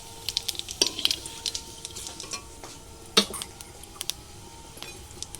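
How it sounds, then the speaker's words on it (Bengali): Whole cumin seeds crackle and sizzle in hot oil in a pan alongside dried red chilli and bay leaf, a steady faint fizz broken by sharp pops and the odd clink of a utensil, with no talking. "এবার আমি গোটা জিরে ফোড়ন দিয়ে দিচ্ছি।"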